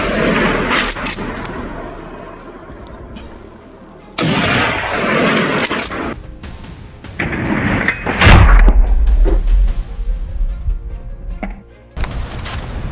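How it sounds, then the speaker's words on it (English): Rifle shots fired at a wild boar during a hunt on snowy ground ring out as several loud, sharp blasts with booming tails, separated by short quieter gaps. "the marksman tracked the beast's movements and fired"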